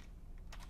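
A few quick, faint keystrokes on a computer keyboard as a command is typed into a command prompt, short and close with a small cluster of clicks near the end.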